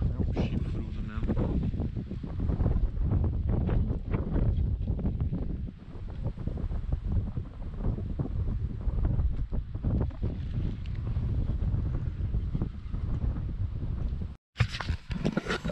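Strong wind at a lagoon during a traíra fishing trip buffets the microphone with loud, continuous rumbling gusts for several seconds, briefly cutting out near the end, with faint talk beneath.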